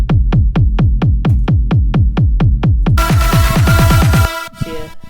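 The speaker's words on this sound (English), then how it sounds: "Without the sidechain kickstart, it would sound like this." Trap remix beat with the sidechain kickstart removed: a run of booming 808 kicks in a fast even pulse, joined by a dense buzzing synth layer partway through, then a short broken tail, loud and without voices.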